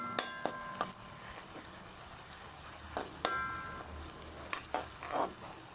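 Onions frying in a pan give a soft, steady sizzle, broken by several sharp spatula scrapes and clicks as they are stirred, quiet and close.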